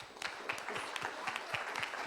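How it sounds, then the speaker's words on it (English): An audience claps steadily, a scattered patter of many hands at moderate distance, without cheering. "Can everyone just give educators a round of applause for a moment?"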